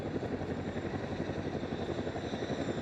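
A Chinook helicopter at the Eastbourne International Airshow gives off a steady, dense rotor and engine roar, a continuous broadband drone with a faint rhythmic chop, holding level throughout with no voices.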